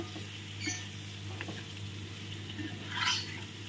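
Ripe papaya curry being stirred and fried in a pan, with a soft steady sizzle and a few scraping stirs, the loudest scrape near the end, heard close and with no talking.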